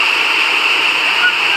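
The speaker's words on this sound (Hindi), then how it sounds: "नीचे अलकनंदा नदी बह रही है।" The fast-flowing Alaknanda river rushes beneath a bridge, swollen after rain, with a steady loud roar of water that stays even and close throughout.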